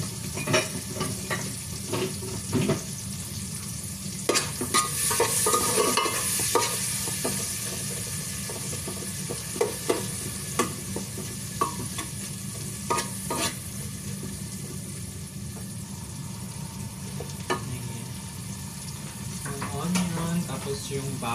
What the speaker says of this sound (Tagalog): Tignan natin yung onion na ano,